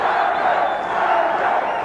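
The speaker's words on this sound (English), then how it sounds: "And the crowd chants, thunder, thunder, thunder." A boxing match crowd chants in unison, a loud, dense roar of many voices that carries on without a break.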